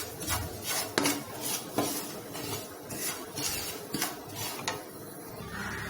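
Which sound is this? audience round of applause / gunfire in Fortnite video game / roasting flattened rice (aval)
roasting flattened rice (aval)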